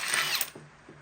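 An impact wrench (rattle gun) fitted with a 5.8 socket works a bolt loose on an MK2 burnout esky build, giving a short, loud, high buzzing burst close up that stops abruptly, followed by faint metallic taps.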